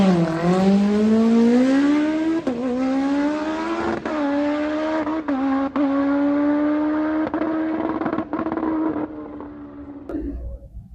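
A supercharged Suzuki Hayabusa drag bike makes a full pass with the throttle and ignition timing turned up. The loud engine wails up through the gears with short shift breaks, then the sound fades at the end of the run.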